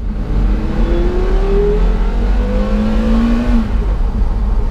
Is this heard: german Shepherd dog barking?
no